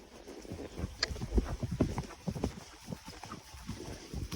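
Horse hooves on a quiet hack with an older horse, a steady rhythmic clip-clop of footfalls close by, with tack and ambient noise and no talking.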